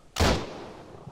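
A single loud, close gunshot goes off in a shooter video game, with a sharp crack followed by a short decaying rumble and no talking.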